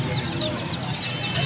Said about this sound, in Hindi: तो अब मुर्गे दिखाते हैं, ये देसी मुर्गियों के बच्चे हैं ये टोटल।